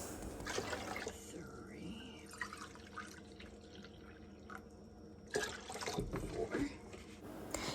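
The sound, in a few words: white vinegar poured into pot of water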